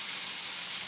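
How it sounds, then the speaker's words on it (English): Steaks searing in a hot pan give a steady, close, bright sizzling hiss, continuous and unbroken with no talking. "we're going to take our steaks and toss them right into the pan. Just like that. Oh, you guys hear that sear?"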